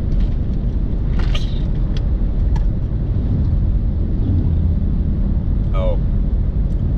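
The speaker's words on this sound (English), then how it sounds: "the muffler is going. My car is now quite loud." A car with a failing muffler heard from inside while driving, a steady loud low exhaust drone and rumble running throughout, with a few faint higher squeaks on top.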